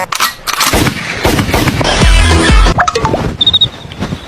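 A rapid burst of gunfire crackles through a noisy, busy mix, followed by a few scattered sharp bangs and some high beeps.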